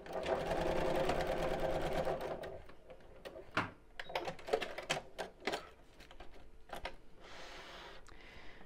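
A sewing machine top stitching a fabric circle pouch, a steady fast mechanical whirr for a couple of seconds, then stops into a series of clicks and fabric handling taps, close and quiet.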